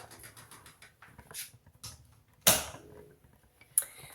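A door creaks open into a mystery escape room set up to look like Granny's house, with small creaks and ticks building to a sharp loud creak midway and another brief one near the end.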